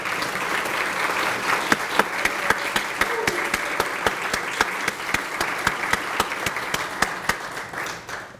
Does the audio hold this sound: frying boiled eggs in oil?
no